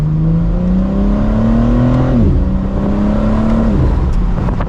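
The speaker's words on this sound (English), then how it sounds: "And we can hear that exhaust." A 2023 BMW M4 Competition Convertible xDrive's exhaust drones steadily up close, pitch rising then dropping twice as the engine revs and shifts, with no voices.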